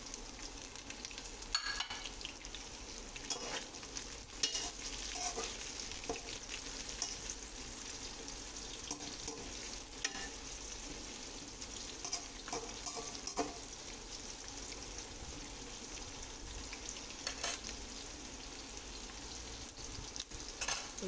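Onions sizzle steadily in a hot pan for batchoy, a dense continuous frying hiss with occasional stirring scrapes, close and even throughout with no talking.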